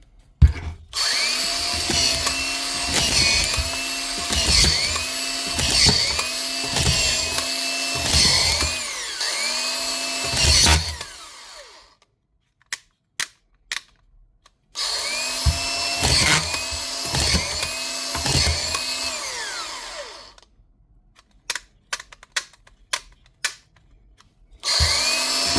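A power drill drives screws, leaving the heads sitting proud. Two long, loud stretches of pulsing whine alternate with near-silence and brief isolated blips of the trigger.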